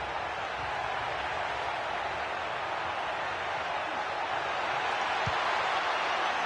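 A big stadium crowd in the FC 25 football video game roars in a steady, dense wash of cheering and noise that holds level throughout, with no distinct voices standing out.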